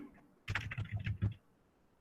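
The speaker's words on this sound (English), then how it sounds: "You can go on typing continuously also, no issues." Quick, fairly loud keystrokes rattle in a short burst on a computer keyboard as code is entered for a database lab, with quieter room tone before and after.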